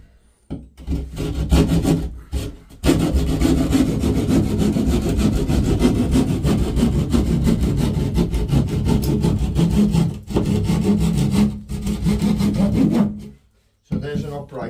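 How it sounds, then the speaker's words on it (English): A small plasterboard saw cuts into a wall, loud close rasping strokes in long continuous bursts with brief pauses and a short break before the final strokes. "So we put a little plasterboard saw in first."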